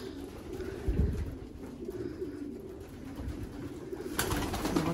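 Low, soft cooing of several pigeons in a loft, repeating in throaty murmurs against a steady background hum, with a brief rustle near the end.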